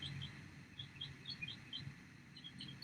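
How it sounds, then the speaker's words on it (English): Small birds singing outdoors, a scattering of quick high chirps and tweets repeating irregularly over a soft, steady background hush, faint and distant. "whatever's making those birds sing"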